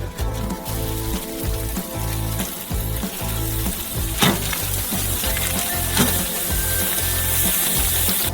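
Potato patties fry on a grill with a continuous close sizzle and crackle, accompanied by occasional scrapes and knocks, with no talking.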